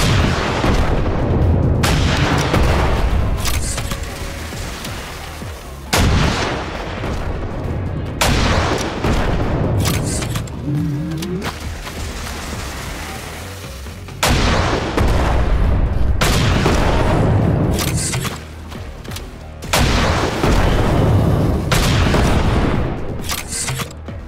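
Gunfire in the Zombie State roguelike first-person shooter on Android, loud sustained bursts of rapid shots with booming impacts, coming in repeated volleys separated by brief pauses.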